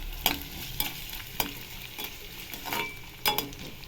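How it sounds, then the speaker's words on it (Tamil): Onions and carrots sizzle softly in a pan while a spoon scrapes and clinks against it in several sharp strokes. "வெங்காயம் நல்லா வதங்கிடுச்சு பாருங்கள் இப்போ கேரட் போட்டுக்கலாம்"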